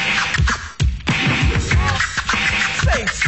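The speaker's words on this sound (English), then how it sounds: "Record burn." A DJ scratches a vinyl record on a turntable in a quick, choppy series of back-and-forth swipes with short rhythmic bursts, loud and close, over a hip-hop beat.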